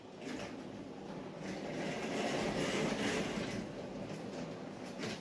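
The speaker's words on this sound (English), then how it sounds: "Let's get some footage of these trains running." Small trains rumble and clatter steadily along a track, a continuous rolling rattle that swells slightly in the middle, fairly faint and with no voices.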